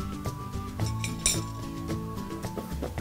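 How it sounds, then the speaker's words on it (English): Utensil scraping and clinking against a bowl while soy sauce and tamarind pulp are gently mixed together for a satay peanut sauce, a close, steady run of soft knocks and clinks with no talking. "Just gently mix everything in."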